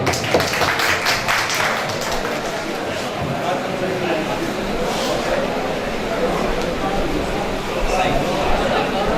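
Audience applause at an Urdu mushaira poetry gathering in Layyah, steady dense clapping filling the whole stretch, close and loud, with crowd chatter mixed in.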